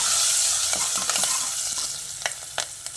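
Onion and green chillies frying in a pan, giving a steady bright sizzle with a few sharp spatula scrapes near the end, close and alone.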